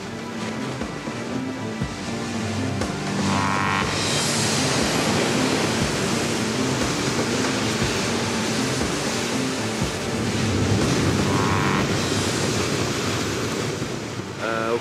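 Heavy ocean surf pounding a black lava coast in the Azores, a steady loud roar with two breaking waves that swell and hiss, and wind blowing across the microphone.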